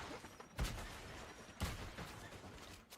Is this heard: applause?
no